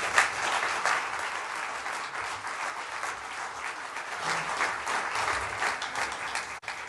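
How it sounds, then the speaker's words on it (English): Audience applause for an author taking the floor at an evening book talk, a dense, steady crowd clapping that fills the room for about seven seconds before breaking off abruptly. "Please, a warm applause for Deborah"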